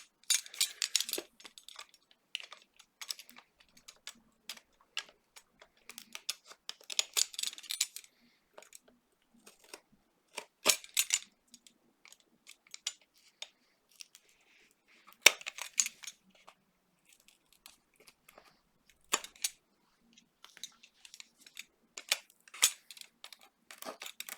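A blade cutting through an old CD, producing sharp intermittent cracking and clicking bursts in irregular clusters, close and fairly loud against a quiet background with no talking.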